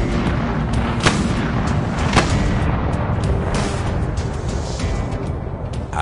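Artillery guns fire rounds in a military setting, giving a dense, loud, continuous rumble with a couple of distinct booms rising out of it. No one speaks.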